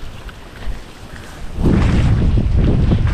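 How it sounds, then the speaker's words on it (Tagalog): Strong wind roars and buffets the microphone near a water spinach patch by rice fields, starting moderate and then surging into a loud, sustained gust outdoors. "Uy, lakas ng hangin."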